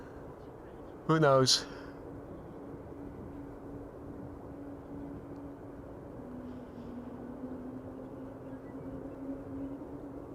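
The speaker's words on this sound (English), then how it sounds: "I'm even hearing the whale sounds that it makes, that the engines of the airplane make." Airliner engines at Amsterdam Schiphol Airport give a steady, low whining drone with a faint tonal hum throughout, interrupted near the start by a brief spoken remark.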